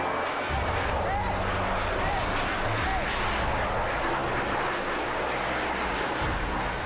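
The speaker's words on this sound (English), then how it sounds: "the pilotless plane plummets to the ground in the middle of the bustling city" Loud roaring jet fighter engine noise, continuous and heavy, like an aircraft diving close overhead toward the ground, with rumbling low end.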